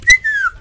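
A person whistles a short, loud falling note, sliding downward after a brief sharp attack, close and clear with almost nothing else around it.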